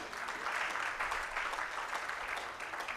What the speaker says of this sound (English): I want us to also give a round of applause